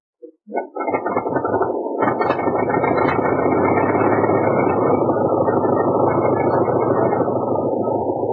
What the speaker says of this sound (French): le moteur, remis à neuf, vrombit de nouveau